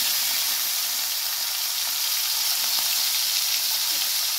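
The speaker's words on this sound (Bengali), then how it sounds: "এবার আমি চিংড়ি কটা দিয়ে দেবো।" Shrimp frying in hot oil in a wok, a loud, steady, dense sizzle with no breaks, heard alone without any talking.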